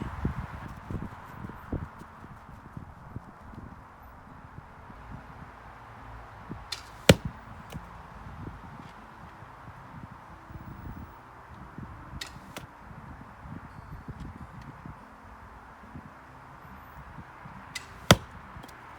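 Arrows are loosed from a bow with dragon-scale backing at 15 yards, a few sharp snapping releases spaced several seconds apart against steady gusting wind and rustle.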